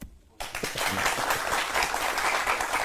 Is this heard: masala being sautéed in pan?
no